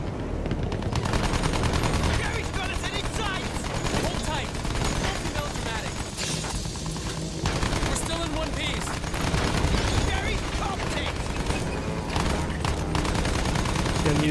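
Dense, continuous gunfire and battlefield noise in the World War I shooter Battlefield 1, loud rapid shots layered throughout with no pauses, and no talking heard.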